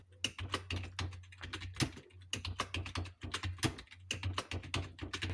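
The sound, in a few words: typing Hindi on computer keyboard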